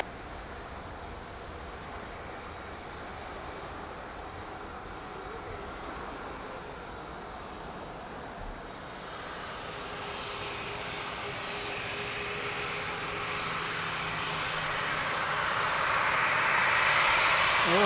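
An airliner approaching runway 02 at Lisbon Airport, a steady broad engine roar that grows louder toward the end as it nears, with no voices over it.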